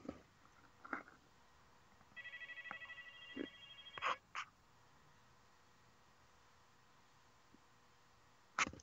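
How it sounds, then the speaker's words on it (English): A quiet phone ring chirps briefly amid faint room noise, with a few scattered clicks and knocks before and after. "hold on, my phone's ringing."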